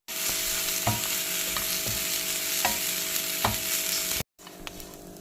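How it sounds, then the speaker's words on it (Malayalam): Crushed garlic and ginger fry in a pan with fennel seeds, cinnamon and cardamom for goat head thoran. A close, steady sizzle is broken by regular spoon-scraping clicks, then a brief silence before the frying resumes more quietly. "1 സ്പൂൺ പെരിഞ്ചീരകം, പട്ട, ഏലക്ക എല്ലാം കൂടി ചേർത്ത് നന്നായിട്ട് മൂപ്പിച്ചെടുക്കാം."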